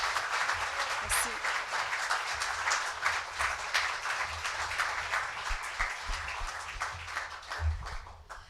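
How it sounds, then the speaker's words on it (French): Audience applause at a Montreal award ceremony, a steady wash of many hands clapping for the full stretch, fairly loud and dense, with faint voices mixed underneath. "Encore une bonne main d'applaudissements."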